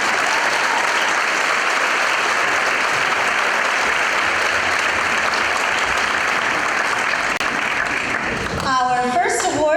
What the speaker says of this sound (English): one more round of applause for Jasper?